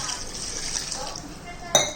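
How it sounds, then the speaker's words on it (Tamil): Water is poured into a pot of ground-masala chicken curry, a soft continuous liquid splash up close that ends with a sharp metallic clink, while a voice talks over it. "தேவையான அளவு தண்ணி ஊற்றிக்கலாம்ப்பா"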